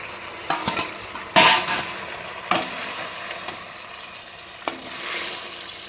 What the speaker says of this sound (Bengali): জল ফুটে এসেছে, মাছটা দিয়ে দিচ্ছি।